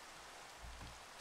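Steady rain falls in Minecraft, a dense even hiss of drops on surfaces that fills the brief moment without any voices.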